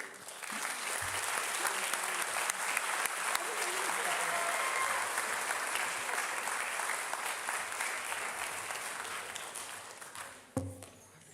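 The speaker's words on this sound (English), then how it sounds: "would you give a warm round of applause for his parents who are here?" Audience at a high school orchestra senior concert gives a sustained round of applause, a steady, fairly distant wash of many hands clapping that fades slightly near the end.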